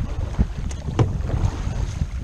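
Gusty wind buffets across open water on Prettyboy Reservoir, with low rumbling bursts and small splashes from a kayak rocking nearby.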